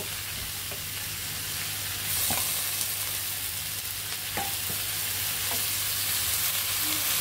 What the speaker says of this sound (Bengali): এখন লাউ পাতার সাথে ভালোভাবে কষিয়ে নিতে হবে।